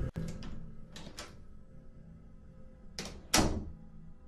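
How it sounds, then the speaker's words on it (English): Door in a building bathroom opening, heard as several close thunks and rattling knocks separated by quiet, with a strong thud near the end. "and the bathroom door opens."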